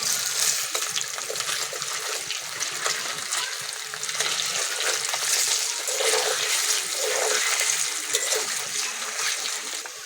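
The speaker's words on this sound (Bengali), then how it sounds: "পনিরগুলো উল্টে পাল্টে ভালো করে ভেজে নেব" Paneer pieces frying in hot oil, turned over in the pan, producing a steady, close crackling sizzle with bursts of spattering throughout.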